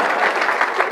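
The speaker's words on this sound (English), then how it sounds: "I don't know why people clap at that" Audience clapping at a stand-up comedy show, a short dense burst of applause from a crowd, steady and fairly loud throughout.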